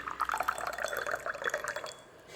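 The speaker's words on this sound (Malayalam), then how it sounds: "എന്നിട്ട് നമ്മളതിലേക്ക് കുറച്ച് വെള്ളം ഒഴിക്കുക" Water poured into a glass tumbler, a short, faint gurgling trickle with small splashes that tapers off near the end.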